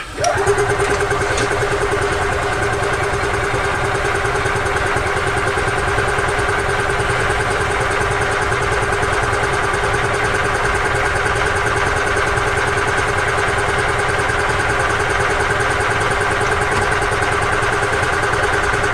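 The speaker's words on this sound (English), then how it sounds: "It's going to take a little bit of cranking to get the fuel onto the fuel bowl" An EZGO golf cart's small gas engine turns over and catches, then runs at a steady, loud idle with an even mechanical drone that carries on alone without a break.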